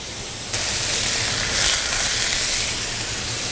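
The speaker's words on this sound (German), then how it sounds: "Dann dreht man die Pfanne aus, gibt ein kleines bisschen Butter dazu" Veal medallions sizzle in a hot frying pan with a little butter, a steady close frying hiss that jumps louder after a quiet first half-second and holds throughout.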